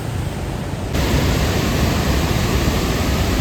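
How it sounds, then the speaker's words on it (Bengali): Rushing water released from Panchet Dam, a dense continuous roar of broad noise that jumps louder after the first second and holds steady and close throughout. "শুধুমাত্র জলেরই আওয়াজ পাওয়া যাচ্ছে এখানে"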